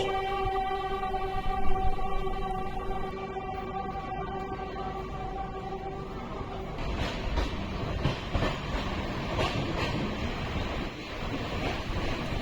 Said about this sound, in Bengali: মাত্র পাঁচ মিনিট হল্ট দিয়ে আমাদের ট্রেন আবার ছুটে চলল তার নিজের গন্তব্যে